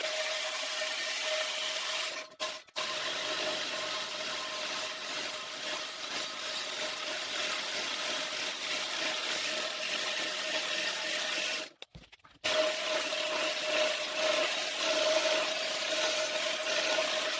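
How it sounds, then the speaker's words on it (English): Sawzall reciprocating saw cutting steel plates off an A-frame gantry hoist, a steady, loud, continuous buzzing rasp running throughout with two brief pauses. "If you don't have plasma cutting capabilities, but a Sawzall, you could Sawzall the plates off."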